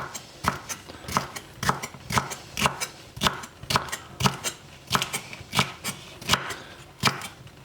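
A knife slices through red peppers on a cutting board with steady, crisp cuts about twice per second, close and clear with no talking.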